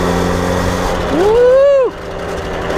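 A 1979 Motobecane barn-find moped engine is revved once, climbing to a buzzing peak over about a second and then dropping back to a low idle, heard up close over a steady background rumble.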